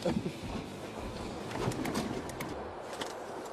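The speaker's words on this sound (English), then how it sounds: "Oh, birds are just coming beautiful." Pigeons flying in during an outdoor shoot, heard as faint soft cooing and light bird sounds over a steady, noisy outdoor background for a few seconds.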